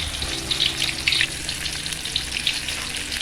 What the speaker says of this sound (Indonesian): tahapan selanjutnya yaitu kita menggoreng berambang. Kita goreng sampai dia kering.